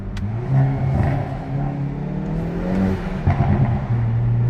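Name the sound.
hot hatch car engine revving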